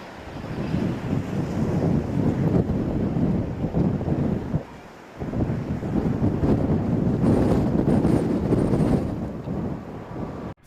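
Strong gusting wind roars over the microphone during Storm Eunice as an A380 comes in to land, a loud, constant buffeting rush with a short lull midway.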